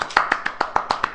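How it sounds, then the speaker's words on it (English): A soft, polite golf clap: about seven light, evenly spaced claps in quick succession, close and quiet, with no other sound. "Golf clap."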